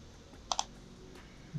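A computer mouse clicks twice in quick succession, crisp and close in a quiet room, then falls silent.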